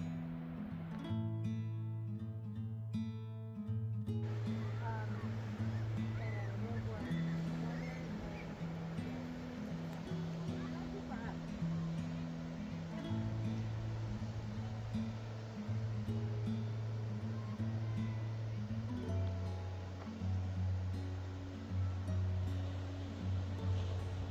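Ocean surf rolls in steadily along the Oregon coast seen from a side trail overlook, a continuous broad wash of waves heard from a distance and with nothing else in the foreground.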